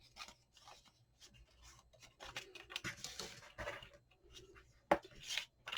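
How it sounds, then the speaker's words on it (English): Folded paper crease on a handmade junk journal mini album being burnished, giving soft rubbing and rasping strokes in uneven bursts, close and fairly quiet, with one sharper tap near the end. "Give it a little burnish so they're nice and creased."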